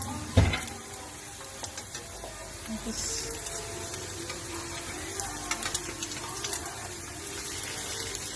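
Onions fry in a pan of fat for an Iraqi bagila bil dihin breakfast, giving a steady, close sizzle with occasional faint clinks and stirring from start to finish.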